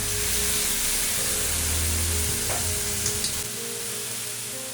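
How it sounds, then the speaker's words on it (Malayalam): Chicken mixture sautéing in a pan with soy and tomato sauces gives a steady, close, loud sizzle with occasional scraping stirs, alone without voices. "ഇതൊന്ന് നല്ലോണം വഴറ്റി കൊടുക്കാം"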